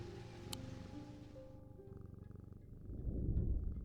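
A cat in the video game Strange Antiquities purrs in a low, rumbling throb that swells toward the end, close and soft beneath a quiet sustained musical tone.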